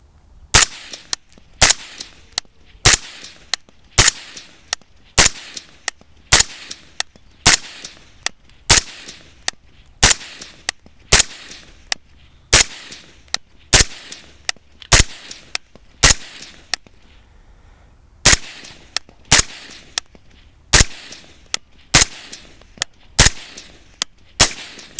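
A suppressed .22 fires roughly one round per second, producing a long, even series of sharp, dry cracks, each followed by a short fading tail, with quiet gaps between shots and no talking.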